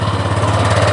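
A 2019 Honda Vario 125 CBS ISS scooter engine idles close by, giving a smooth, even, rapidly pulsing hum with a steady low throb and no talking over it.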